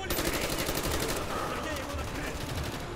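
Sustained automatic gunfire in Call of Duty: Black Ops campaign, a steady loud rattle of rapid shots with no pauses.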